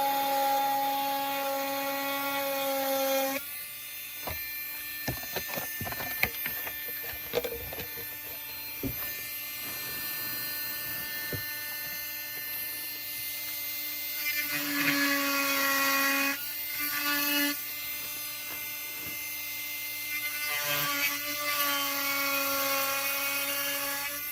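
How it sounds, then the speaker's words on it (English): A high-speed dental burr whines steadily while cutting and dragging through clear plastic retainer material, its pitch dipping and rising as it bites, with scraping and clicking contact sounds and no speech. "it's easier to just put the burr through the plastic material and drag it and pull along the road, pull along the line"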